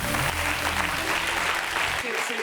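Studio audience applauding on a French television talk show: dense, loud clapping throughout, with voices over it.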